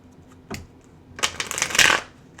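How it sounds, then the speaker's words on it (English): Tarot cards shuffled by hand: a brief riffle near the start, then a longer burst of flicking, papery card shuffling that swells and fades, close and fairly quiet, with no talking. "I've used this deck for quite some time"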